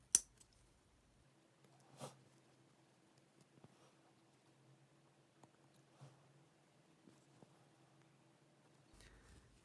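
Scissors snip quietly through several layers of fabric during a sewing job, a few faint crunchy cuts spaced irregularly against a near-silent room with a low hum.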